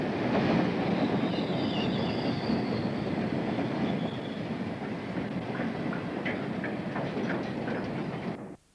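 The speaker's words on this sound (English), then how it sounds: "Back on the main, a train of empties runs past the Thoresby Colliery distant" A train of empty coal wagons runs past a colliery signal at a steady pace, a continuous rumble with light rhythmic clatter from the wheels before it cuts off abruptly.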